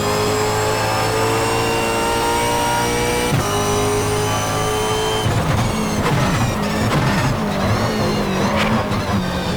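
A car in the Super V8 racing video game at Bathurst runs with a loud, steady engine drone, then shifts and its underside scrapes the track in harsh, uneven grinding bursts over the continuing engine noise.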